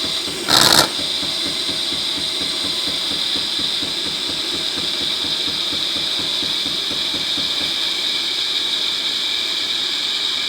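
A Jura E6 coffee machine runs its milk clean cycle, giving a steady rapid pulsing pump drone with a high whine, opened by a brief loud hiss burst, close and continuous with no talk.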